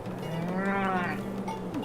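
Cattle lowing in a Farthest Frontier farming settlement as winter approaches: a sustained, fairly loud moo with a steady low tone and rising harmonics, lasting most of two seconds over constant game ambience.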